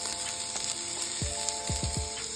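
Food frying in a pan on a home stove gives a steady, quiet sizzle with small crackles throughout, alone without talk.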